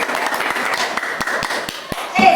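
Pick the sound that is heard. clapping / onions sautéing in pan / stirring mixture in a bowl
clapping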